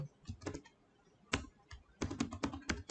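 Typing HTML code on a computer keyboard: bursts of quick, close key clicks, with a short pause, then a denser flurry of keystrokes toward the end.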